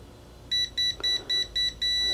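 A KAiWEETS brake fluid tester pen dipped in a cup of old brake fluid gives six evenly spaced, crisp electronic beeps, close and clear, ending in a longer steady tone over faint room hiss.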